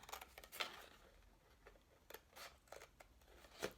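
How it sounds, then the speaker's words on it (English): Scissors snip through paper cutting out drawn fish shapes, a series of short crisp cuts in irregular bursts, close and fairly quiet with no talking. "when you've drawn your fish, you just need to cut them out"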